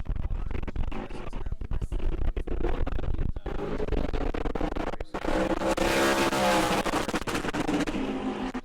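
A super late model race car roars loudly during qualifying at New Smyrna, engine revving continuously with a sharp shift in pitch midway as it accelerates hard and close.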